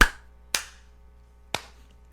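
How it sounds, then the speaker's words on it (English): A group claps in unison: three sharp, loud, synchronized claps, the first two about half a second apart and the third after a one-second pause, each decaying quickly into quiet. "That was the smoothest clapping I think we've ever done"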